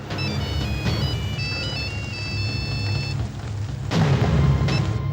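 A phone ringtone plays as a repeating electronic melody over a low background music bed, running for about three seconds before the tune cuts off and a louder low swell follows.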